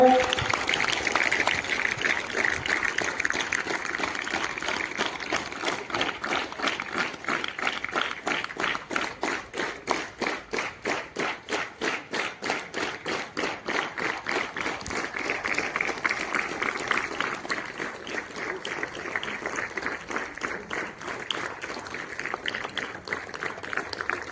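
Loud crowd applause breaks out at the opening of a school annual sports meet, a dense sustained clapping wash that carries on for over twenty seconds with faint talk underneath.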